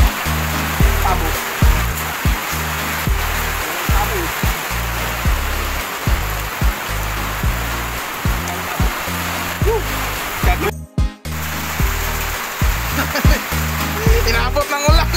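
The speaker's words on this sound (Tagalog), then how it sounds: "Inabot ng ulan." Heavy rain pours in a dense, constant hiss, with deeper thumping sounds and occasional background noises layered over the downpour.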